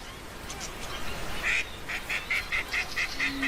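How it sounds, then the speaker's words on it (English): An Australasian figbird calls in Australia, giving a quick series of about eight short, sharp notes at an even pace against a hissy outdoor background. "It's an Australasian fig bird, the Australian cousin of our oriole."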